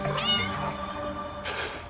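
A cat meows twice, a drawn-out cry followed by a shorter one, close and fairly loud against a faint background.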